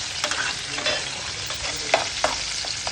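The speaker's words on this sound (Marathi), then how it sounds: "चांगली तडतडली पाहिजे, आवाज आला पाहिजे एवढा जोराचा, अशी त्याला परतवून घ्यायची" Garlic tempering crackling in hot oil in a pan, a continuous close sizzle with the scrape and clack of a spoon stirring and a few sharper knocks.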